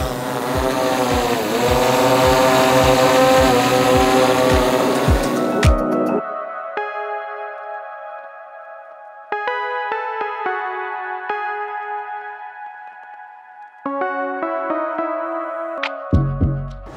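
Sony Airpeak S1 drone propellers spin with a loud, close whirring buzz for about six seconds, then give way to quieter sustained tonal hums.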